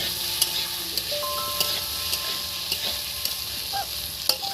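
Potatoes for aloo bhaja frying in a pan, a continuous bright sizzle with scattered small pops and crackles, close and fairly loud, heard alone without speech.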